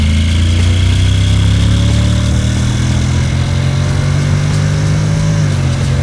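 Honda NC750X motorcycle with a DCT automatic gearbox while riding, a steady loud engine drone with a pitch that rises and dips as gears change smoothly.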